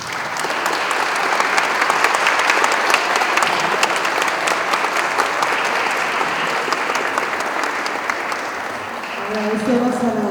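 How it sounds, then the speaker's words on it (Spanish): A room full of people applauds warmly, sustained clapping that tapers off near the end as a voice begins speaking. "Agradecemos a la doctora Lucero con un fuerte aplauso cariñoso"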